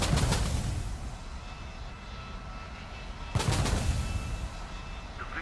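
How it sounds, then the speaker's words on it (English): A missile launch in the War Thunder air-combat game, set against the constant roar of an aircraft engine. A sudden broadband whoosh bursts out partway through, and the loud engine noise continues underneath. "He just fired a missile"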